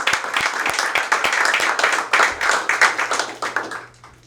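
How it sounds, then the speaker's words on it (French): Scattered clapping from a small audience at a 25th anniversary ceremony for a public artwork in Baie-Saint-Paul, starting as a few distinct claps, thickening into brief applause, then fading away. "On va les applaudir."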